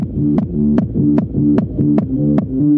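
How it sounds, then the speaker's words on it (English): Short looping intro tune for a video game, repeating a simple bright melodic phrase with a regular beat roughly every 0.4 seconds, steady and clear with no voices. "I created a simple intro loop that's just based on the music that's going to play at the start and at the end of the game."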